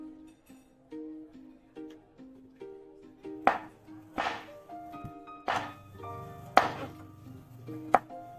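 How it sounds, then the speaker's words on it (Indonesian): A knife chops shallots and garlic on a cutting board in irregular, close thuds, some sharply louder, over soft background music. "Kemudian potong-potong bawang merah dan bawang putih hingga selesai."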